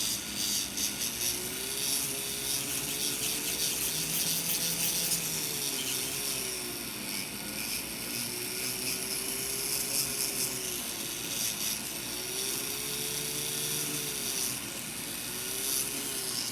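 Steady high whine of a small electric nail drill filing nails, running continuously, its pitch rising and dipping slightly, over a constant grinding hiss.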